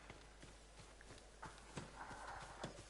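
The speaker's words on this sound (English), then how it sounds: "So that's my horse." Hooves of a horse in the Ghost of Tsushima video game clip-clop at a walking pace, a quiet, uneven string of soft thuds over faint background ambience.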